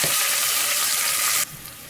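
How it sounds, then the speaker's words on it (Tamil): Chopped onions and dal sautéing in a pan give a steady, close sizzle for about a second and a half before it abruptly drops to a quieter hiss. "போட்டு ஒரு 2 நிமிஷம் வதக்கிக்கோங்க"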